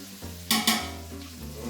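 Fresh garlic hitting a pan of cooking black-eyed peas, a steady sizzle broken by two sharp bursts of frying and stirring, close and clear with no talk.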